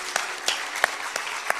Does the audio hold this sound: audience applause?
yes